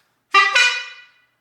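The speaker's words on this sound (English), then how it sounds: "This is an actual metal horn." A metal bike horn sounds one close, loud double honk, two brassy blasts in quick succession that ring out and fade, with no talk over it.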